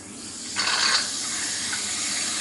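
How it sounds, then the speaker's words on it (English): Tap water switches on and runs into a combi tank for processing 4x5 sheet film, a sudden gush that settles into a steady, fairly loud rushing stream, with no talking. "And we're going to turn on the water."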